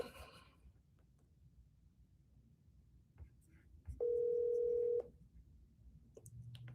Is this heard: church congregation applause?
no